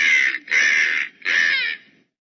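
A crow gives three loud, close, harsh caws in quick succession, each about half a second long with short gaps between them, followed by silence.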